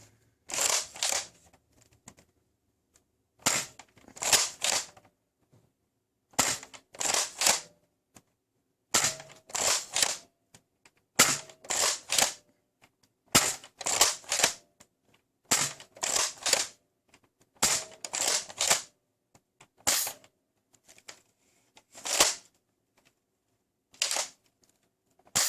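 An X-Shot Skins Last Stand toy dart blaster fires darts in a long series of sharp, close clacking shots, arriving in uneven bursts of two or three with short pauses between them and no talking.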